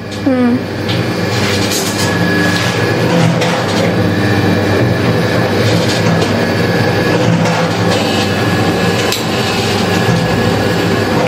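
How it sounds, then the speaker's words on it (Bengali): Roti making machine starting up and running steadily, a continuous loud mechanical rumble and clatter with rhythmic clanking throughout, while a gas line feeds its oven and griddle. "তো দেখুন মেশিনটা স্টার্ট করা হয়েছে, এবারে দেখিয়ে দিচ্ছি কীভাবে মেশিনটা চালু হচ্ছে।"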